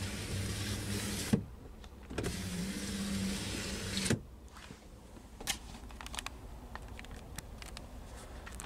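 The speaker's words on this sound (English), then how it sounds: "the control for your power rear window." Power rear window of a 2019 Ford F-150 Lariat SuperCrew motoring twice in a steady electric whir, each run ending in a soft thunk, followed by faint clicks in the cab.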